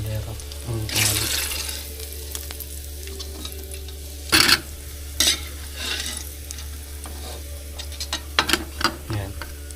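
Water from a tap runs into a cooking pot to wet it before making lomi noodles, a steady close hiss punctuated by several sharp clanks and splashes of the pot being handled, with no voices.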